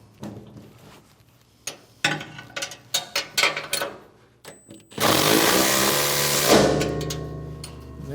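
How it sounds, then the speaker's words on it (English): An impact wrench draws a sprocket bolt snug on a MUSKOX snowblower, first with several short taps and clanks, then one loud sustained burst close up. "I'm going to use an impact here. Put it on the end of your bolt. Draw the sprocket down so it's snug."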